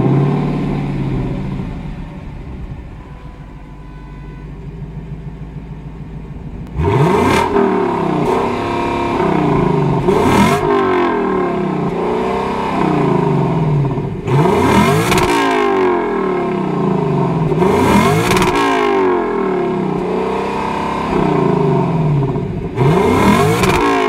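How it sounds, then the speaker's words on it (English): A 2022 Lexus LC500 engine idles, then is revved hard in several loud sharp blips that rise and fall, close and alone with no talking. "let's do a sound check and then I'll rev it up to see what it sounds like"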